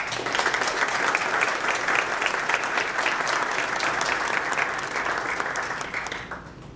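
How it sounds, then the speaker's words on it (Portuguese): An audience at the launch of the IFRN Cidade Alta cultural incubator gives a sustained round of applause, steady dense clapping that tapers off near the end. "Aqui eu pediria uma salva de palmas."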